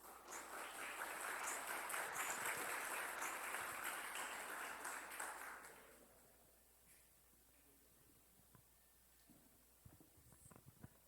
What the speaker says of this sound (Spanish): Recibámoslo por favor con un fuerte aplauso.